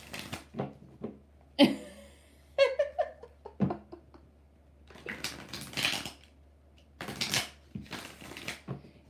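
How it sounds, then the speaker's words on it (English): Quick papery riffles and soft card slaps from shuffling tarot cards come in short bursts, several shuffles in a row, close by, with a brief laugh partway through. "4 shuffles for Flea Little Piggy"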